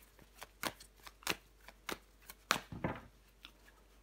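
Tarot cards handled and flipped over on a table: a string of sharp, separate card snaps and slides, some louder and closer, with brief quiet gaps between them and no voices.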